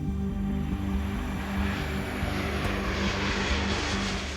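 A fixed-wing airplane with a failed right landing gear from a hydraulic leak circles overhead, its propeller engine droning steadily and loudly without pause, no voices present.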